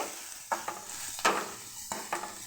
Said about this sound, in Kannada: ಎರಡೆರಡು ಮೆಣಸಿಕಾಯಿ ಹಾಕಿದ್ದೀನಿ. ಸ್ವಲ್ಪ ಬೇಯಲಿ ಈರುಳ್ಳಿ